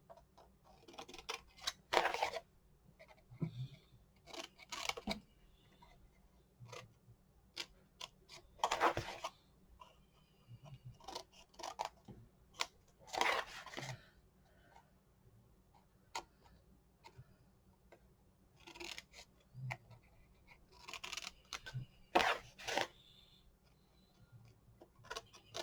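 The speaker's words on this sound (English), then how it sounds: "Cut my corners." Scissors snip through the cover material of an Authentique Voyage mini album to cut its corners: a few crisp, close cutting bursts spaced across a quiet stretch, with faint handling noise between them and no talking.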